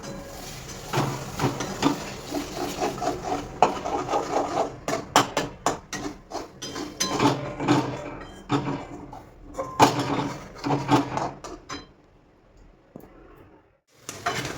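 Egg bhurji stirred in a pan: a spatula scrapes and taps against the metal in a busy, uneven rhythm for about twelve seconds, close and moderately loud, then it stops.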